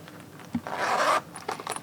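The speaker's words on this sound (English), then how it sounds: "And then I'm going to undo this zipper" Side zipper being pulled down on red Pleaser BEYOND-3028 thigh high boots with 10 inch heels, a short close rasping run after a brief click, fairly quiet with no talk.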